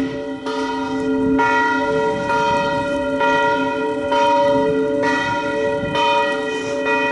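Church tower bells ringing at noon in a Hungarian village: a loud bell struck in slow regular strokes about once a second, each ringing tone overlapping the next and hanging in the air, with no talk.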